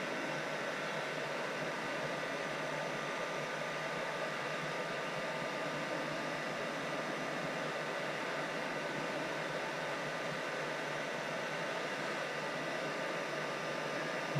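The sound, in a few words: heat gun blowing hot air to shrink heat-shrink tubing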